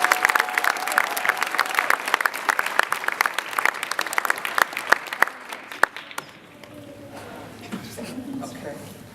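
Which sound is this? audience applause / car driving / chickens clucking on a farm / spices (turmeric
audience applause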